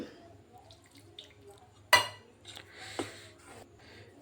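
Milk is mixed little by little into cake batter in a bowl, quiet soft stirring broken by a sharp utensil clink against the bowl and a second lighter knock, close and sparse.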